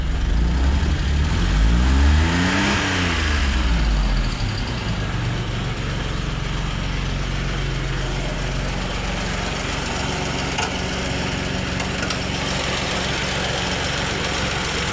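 A Daihatsu Charade engine starts with a rising rev that quickly settles, then idles in a steady, rough mechanical rumble, close and loud for the rest of the clip.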